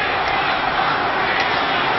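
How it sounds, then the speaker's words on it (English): Football stadium crowd at a 1993 Eagles at Washington NFL game chanting "We want Monk," a dense, steady roar of many voices filling the whole stretch without pauses. "You hear the crowd right now."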